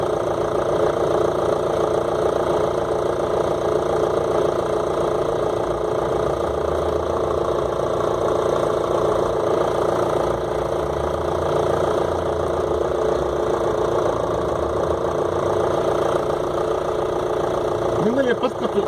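Audi 2.5 TDI diesel engine running steadily at idle after sitting unused for over a month, a continuous low knocking rumble throughout with voices talking over it.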